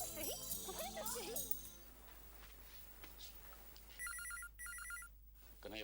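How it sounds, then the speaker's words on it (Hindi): A telephone rings in two short bursts of electronic trills near the end, following a stretch of background music and faint voices in a TV drama scene. "कन्हैया, फोन देखो"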